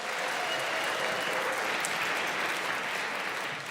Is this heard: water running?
no